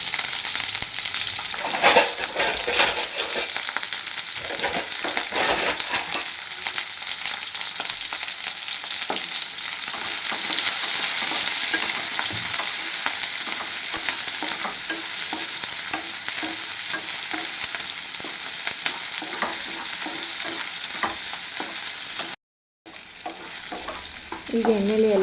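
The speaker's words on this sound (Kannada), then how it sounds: "ಈಗ ಒಂದು ಕಡಾಯಿಗೆ ಎಣ್ಣೆ ಹಾಕೊಂಡು ಈರುಳ್ಳಿ, ಶುಂಠಿ, ಬೆಳ್ಳುಳ್ಳಿ, ಕರಿಬೇವಿನ ಸೊಪ್ಪೆಲ್ಲ ಎಣ್ಣೆಲಿ ಒಂದು ಸ್ವಲ್ಪ ಚೆನ್ನಾಗಿ ಫ್ರೈ ಮಾಡ್ಕೊಳ್ಳೋಣ." Onion, ginger, garlic and curry leaves frying in oil in a kadai for restaurant-style egg masala, a steady loud sizzle with stirring scrapes running almost unbroken, briefly cut off near the end.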